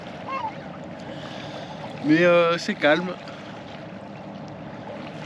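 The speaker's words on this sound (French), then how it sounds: "Il n'y a pas beaucoup de vent. Donc on va commencer au moteur." A sailboat motors under engine power in light wind and cool, damp air, sailed single-handed out of Turkey toward Istanbul. A steady low drone with water wash runs throughout, and a brief spoken phrase sits near the middle.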